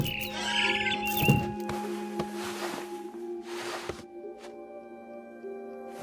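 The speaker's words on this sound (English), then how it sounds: "Then I heard chirping outside my window. It was a barn swallow going back to her nest." Barn swallow chirping in the video game What Remains of Edith Finch, a few sharp tweets over sustained tonal ambience and scattered soft thuds.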